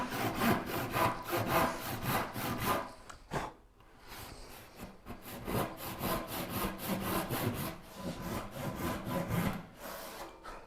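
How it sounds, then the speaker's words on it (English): A hand saw rips through wood for a Viking chair in quick, even back-and-forth strokes, loud and close, with a brief pause partway through before the steady rasping rhythm resumes. "Okay, we've sawn there."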